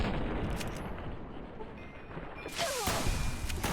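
Gunfire in Fallout: New Vegas during a critical headshot, with soft background rumble and crackle before one sharp, bright report lands suddenly near the end, trailed by a noisy tail.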